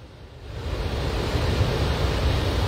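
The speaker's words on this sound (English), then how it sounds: "Check these waves then." Ocean waves breaking at the Soup Bowl surf spot, a loud, deep, continuous roar of surf that swells up at the start and then holds steady as a heavy wash, with no talking.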